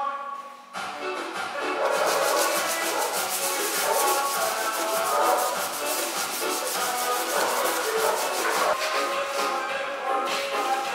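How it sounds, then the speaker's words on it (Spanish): Continuous rhythmic sanding strokes rasp across a Renault Clio engine bay panel, close and loud, with a steady back-and-forth scrub for the whole stretch. "Me copé y ya empecé a lijar todo"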